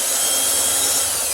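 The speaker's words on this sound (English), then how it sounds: "preferably a Phillips screwdriver or a long bit on a power drill like this" Power drill backing out the screws of an old gold interior door handle: a loud, continuous high-pitched motor whine with a gritty hiss, close up and steady for the whole moment, no talking.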